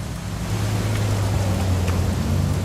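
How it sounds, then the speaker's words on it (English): Steady rain pours in the video game What Remains of Edith Finch, a dense continuous hiss with a low rumbling undertone, constant and fairly loud with no talk. "It's gonna rain the whole weekend, isn't it?"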